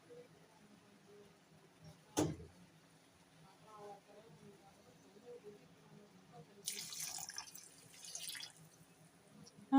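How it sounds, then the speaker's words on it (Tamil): Water splashes and pours briefly into a pot of mixed vegetable soup, a short running gush near the end after quieter kitchen noises. "இதுக்கு ஒரு டம்ளர் தண்ணி சேர்த்துட்டேன்"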